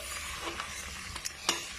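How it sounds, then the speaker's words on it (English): Onions, ginger and garlic fry in hot oil with a steady soft sizzle, broken by a few brief stirring scrapes and clinks near the end. "as my onions are frying, I'm adding some ginger and garlic to the oil"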